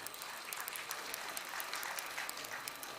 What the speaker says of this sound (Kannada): ಚಪ್ಪಾಳೆ ಇನ್ನಷ್ಟು ಜೋರಾಗಿ ಬರಬೇಕು